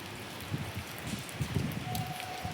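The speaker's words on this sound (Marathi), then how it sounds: "हे बघा खतरनाक पाऊस पडतोय. म्हणजे रिमझिमच पडतोय पण पडतोय." Light drizzle falls outdoors in Neral during the rainy season, a soft, steady patter of raindrops close by, faint and continuous with no talk over it.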